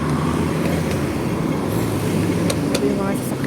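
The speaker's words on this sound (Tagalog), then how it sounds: "Ito yung mga sasakyan guys." Road traffic on a sunny street, with vehicles including cars and buses rumbling past in a steady, continuous wash of engine and tyre noise at moderate distance.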